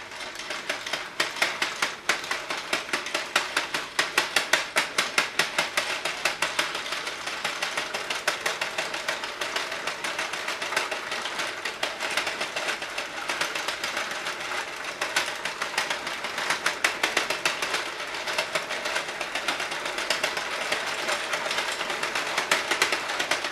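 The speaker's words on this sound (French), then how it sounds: "Donc je vais tourner la manivelle, voyez, et je vais tricoter." Cranking a Prym knitting mill produces a steady, fast clicking rattle of small plastic and metal parts, close and continuous for over twenty seconds with no voices.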